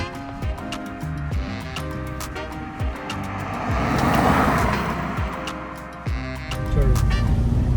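A Mahindra 3XO compact SUV drives on the road with a steady engine and road rumble, wind and tyre noise swelling slightly midway, heard from inside the car.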